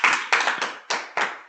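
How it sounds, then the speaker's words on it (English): Applause at a spring tournament opening ceremony, heard as five distinct loud bursts of clapping in quick succession, each fading briefly before the next, close and clear. "can everyone make one final round of applause for our wonderful participants this weekend?"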